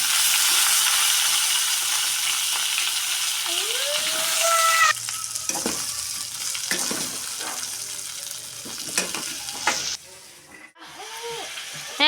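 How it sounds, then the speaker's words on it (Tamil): Mustard seeds spluttering and popping in hot oil, a steady sizzling crackle with sharp pops, followed by louder clatters and scraping in a home kitchen. "இப்போ கடுகு போட்டுக்கலாம். இந்த பொரிஞ்சு வருது."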